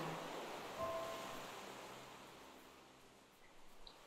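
Ocean waves wash steadily as a soft, continuous broadband surf, with a gentle swell near the end, heard alone with no voices, setting a calm relaxation mood.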